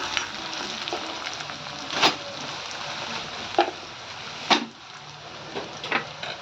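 Curry leaves and cumin seeds sizzle steadily in hot oil for a tempering, with a few sharper crackles and pops standing out over the continuous close frying hiss.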